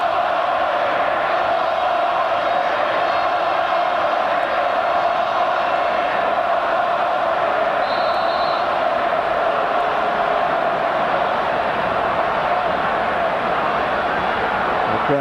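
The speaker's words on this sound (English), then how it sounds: "The crowd making it fairly clear what they feel about the decision" A large football stadium crowd at an Australia v Iran match roars and jeers steadily and loudly at a referee's decision, a dense sustained wall of voices with no letup.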